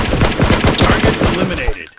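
Rapid automatic gunfire in a shooting video game, loud dense bursts of shots in quick succession throughout.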